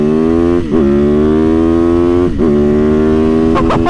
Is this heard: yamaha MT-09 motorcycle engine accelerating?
yes